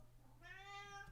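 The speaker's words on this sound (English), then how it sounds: "if you hear somebody crying in the background, it's the cat Merlin" A cat meows once, a drawn-out rising cry that stands out clearly over a low steady background hum.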